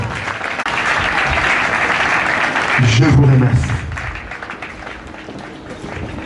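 A funeral congregation applauding in a large gathering, a dense sustained wash of clapping with crowd noise, a voice speaking over it briefly before the clapping thins out.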